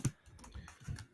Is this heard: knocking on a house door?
no